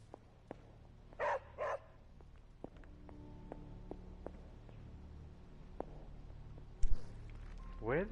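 Charlie, a dog in Marvel's Midnight Suns, gives two short barks near the start and a louder bark close to the end, with faint footsteps and a quiet game ambience between them.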